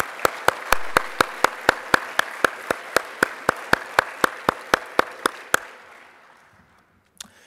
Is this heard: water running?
no